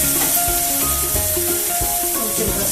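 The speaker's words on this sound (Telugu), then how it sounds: "ఇప్పుడు కొంచెం అల్లం వెల్లుల్లి పేస్ట్ వేసుకుందాం, 2 స్పూన్స్. పచ్చివాసన పోయేదాకా వేయించుకోవాలి" Ginger garlic paste fries in a pan, a loud, close, steady sizzle with spoon stirring underneath and faint background tones, no talking.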